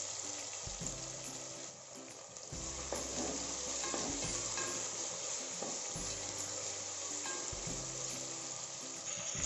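Onions sautéing in a pan for goat biryani, a steady close sizzle and frying hiss with occasional stirring scrapes, no voices.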